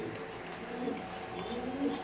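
A female racing pigeon at a pigeon market gives soft, low cooing, a couple of brief murmuring calls over steady background noise.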